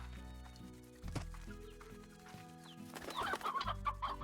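Stony hens in the video game Slime Rancher cluck in short bursts, mixed with other game sounds and background music, growing busier toward the end.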